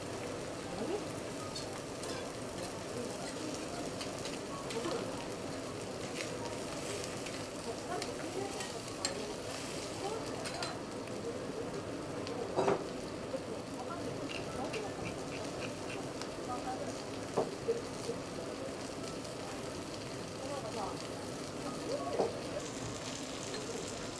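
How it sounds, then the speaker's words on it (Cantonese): Kobe beef sirloin frying on a teppanyaki griddle in an Osaka restaurant, giving a steady low sizzle with occasional spatula taps, heard under faint background restaurant chatter. "師傅一邊煎緊我哋嗰塊神戶牛呢"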